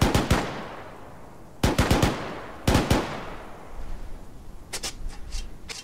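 Bursts of machine gun fire from a video game of 82AD Liberation, three sharp clusters of rapid shots in quick succession, followed by fainter distant gunfire crackling in the background.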